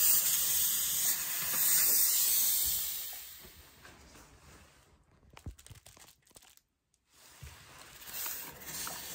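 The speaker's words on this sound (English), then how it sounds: "occasionally you can even steam your trench coat" Garment steamer steaming a trench coat, a loud steady hiss for several seconds that fades, followed by soft fabric rustles and handling sounds with short silent gaps.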